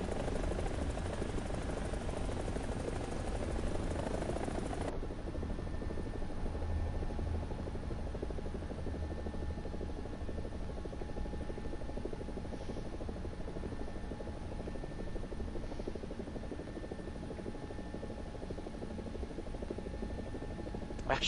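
Helicopter rotor and engine drone in the War Thunder video game, a steady loud whir held throughout, with a louder, brighter burst in the first five seconds before it settles into a constant hum.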